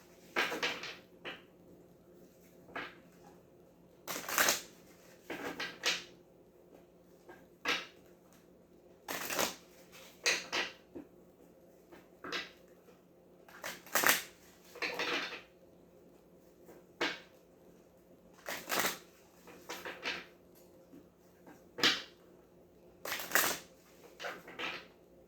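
Tarot cards being shuffled up close in a quiet room, with a series of short, crisp riffling bursts separated by brief pauses that repeat irregularly throughout.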